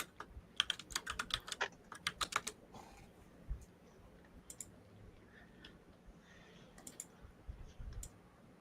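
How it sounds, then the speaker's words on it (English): Rapid bursts of sharp clicks from a very clicky computer keyboard being typed on, clustered in quick runs with pauses between, fairly close and clear over a quiet room. "Hank has a very clicky keyboard."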